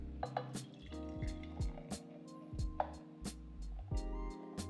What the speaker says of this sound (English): Pour it all to get all that foam.